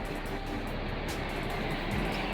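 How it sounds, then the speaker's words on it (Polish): Steady broadband rumble of trains and traffic outside the railway station in Zabrze, Poland, continuous and fairly loud throughout with no voices. "Dworzec kolejowy w Zabrzu."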